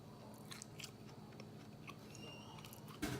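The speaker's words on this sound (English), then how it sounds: "This is an upside down lemon bar, so I'm gonna taste it right now." Someone bites into and chews an upside down lemon bar, close and fairly quiet, with soft crunching and mouth sounds over a steady background hiss and a louder bite at the end.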